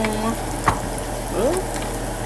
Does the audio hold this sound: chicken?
yes